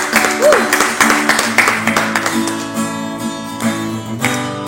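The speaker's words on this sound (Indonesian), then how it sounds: "Kita berikan tepuk tangan bagi Tuhan kita." A church congregation claps during a Friday worship service, rhythmic hand claps running under a speaking voice and sustained organ or keyboard chords, fairly loud and close.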